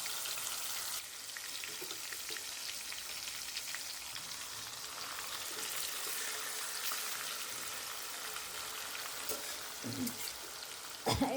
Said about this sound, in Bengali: এবার আমি ওর মধ্যে একে একে এই যে মেরিনেট করা বা মশলা দিয়ে মেখে রাখা মাছগুলো দিয়ে দেবো